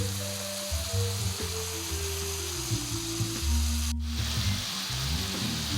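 Ground turkey with onions, pepper and garlic sizzles steadily in a pan with a little olive oil, a continuous close frying hiss with low clunks of stirring and no talking.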